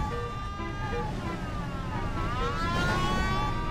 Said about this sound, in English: Kitty Cat says, OMG, the police car sounds.